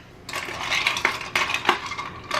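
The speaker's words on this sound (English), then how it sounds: "Now we're going to give it a good stir." Rapid metallic clinking and jingling of a spoon stirring ice in a glass of ginger beer cocktail, close and busy for about two seconds with no voices.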